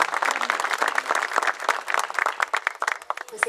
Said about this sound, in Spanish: que también celebramos con este fortísimo aplauso